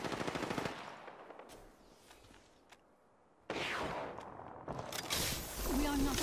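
Rapid bursts of automatic gunfire in the video game Apex Legends, loud and close at the start, dropping to a brief lull, then firing again with further game effects.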